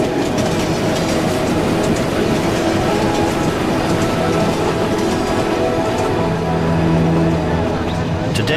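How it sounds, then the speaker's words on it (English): Nilgiri Mountain Railway train running on its track to Ooty in the South Indian hills, with a steady loud rumble and rattle of the carriages throughout and a brief higher tone near the end. "The Nilgiri mountain railway goes to Udagamandana in South India, more commonly known as Ooty."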